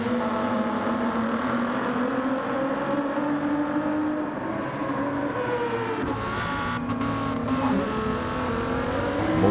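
A Ford GT chasing a Lamborghini in a racing video game, with steady loud engine drone and shifting harmonic whine throughout, a continuous close roar with slight pitch changes.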